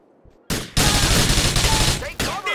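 Loud bursts of gunfire from the video game GTA IV, rapid shots fired in quick succession up close and dominating the clip, with a brief gap before the volley starts.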